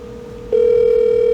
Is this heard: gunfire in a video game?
no